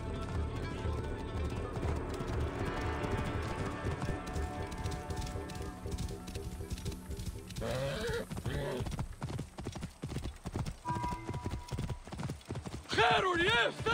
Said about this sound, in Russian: Прежде я не видел такого могучего коня!